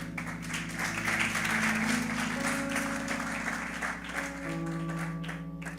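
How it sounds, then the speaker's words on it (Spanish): A church congregation applauds steadily over sustained organ or keyboard chords, the clapping dense and continuous before tapering slightly at the end. "Démosle un aplauso a Dios."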